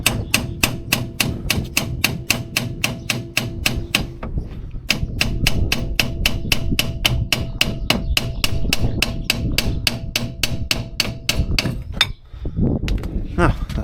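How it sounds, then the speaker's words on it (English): Sharp metallic hammer strikes on a BMW E46 suspension part during camber plate installation ring out in a steady rapid series, loud and close, with a brief pause midway before the pounding resumes. "Then you just get a hammer and you just"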